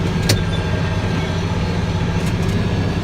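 Farm tractor engine running during hay raking, a loud steady low rumble with constant drone throughout, close to the microphone.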